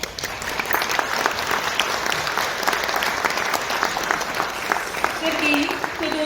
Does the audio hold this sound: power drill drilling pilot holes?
no